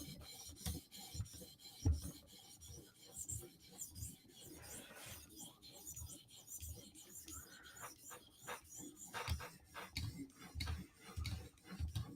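Steel Bowie blade, a Spyderco Slysz, drawn across a sharpening stone in repeated rasping strokes, close and fairly quiet, with a steady back-and-forth rhythm and occasional soft handling knocks.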